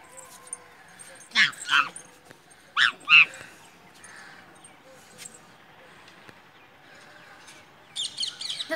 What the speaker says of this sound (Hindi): कितना सारा तोता है, कुछ उड़ भी गए हैं